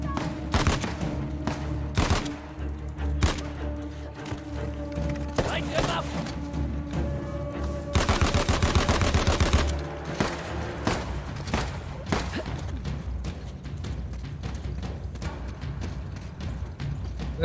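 Sniper and other gunfire in Uncharted: The Lost Legacy, with sharp cracks and thumps scattered through the clip and a dense burst in the middle, under game music and ambience.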